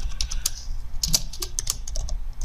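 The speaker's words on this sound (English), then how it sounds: "So I'm just going to type in" Rapid typing on a computer keyboard while entering a name into HCS configuration software, with a steady run of close, crisp key clicks and a few louder taps standing alone.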